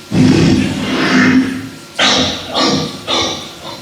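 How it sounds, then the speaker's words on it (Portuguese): Velociraptor roar effect from Jurassic Park, built partly from a reversed bulldog bark: a long raspy growling roar followed by three short, sharp snarling bursts, loud and close. "a equipe de Jurassic Park precisou misturar um bocado de coisa para chegar ao ruído dos Velociraptors"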